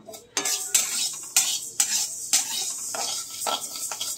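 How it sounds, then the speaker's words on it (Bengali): Mung dal dry-roasting in a pan, stirred with a metal spoon in a series of sharp scraping clinks against the pan under a faint sizzle, with no voices. "তো ডালটা ভেজে নিই"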